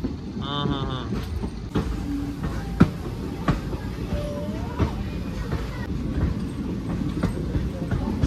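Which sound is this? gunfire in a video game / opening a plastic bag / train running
train running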